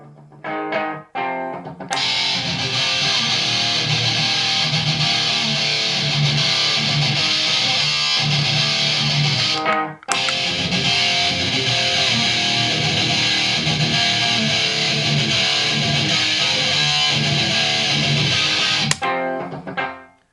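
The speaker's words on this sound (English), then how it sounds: "let's add a little bit more distortion just so you guys can see what this pedal sound like" Heavily distorted electric guitar through a Boss Metal Zone or Metalcore distortion pedal plays dense, loud chugging riffs, pausing briefly midway before continuing at full gain, with a short break near the end.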